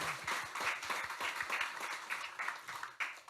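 A church congregation at a Sunday worship service claps for the choir, a fairly quiet, rhythmic spread of handclaps heard from a distance in the hall, continuing steadily throughout.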